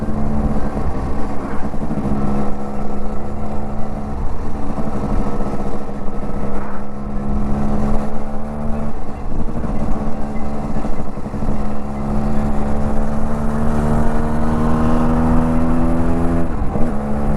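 A Yamaha RXZ five-speed two-stroke motorcycle engine runs loud and close, a steady buzzing drone whose pitch climbs gradually toward higher revs, with no talk over it.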